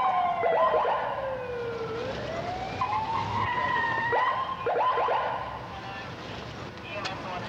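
Police patrol car racing through city streets with its siren wailing and rising and falling close by, engine and road noise throughout, and voices faintly present.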